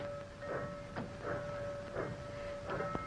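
A train rolls along on the rails with a rhythmic clack of wheels over joints, a steady tone and hiss underneath, heard from inside a carriage at moderate level.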